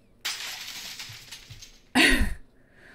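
A glass-shattering sound effect plays twice: a long bright crash of breaking glass, then after a short pause a sharper, louder smash with a heavy low thud, which fades into a faint tinkle.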